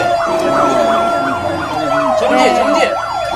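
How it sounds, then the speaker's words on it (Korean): A Korean fire truck siren wails in a loud, fast up-and-down yelp during a fire response drill on a city road, close by, with a steady engine rumble underneath. "소방차 화재 출동 중에 있습니다"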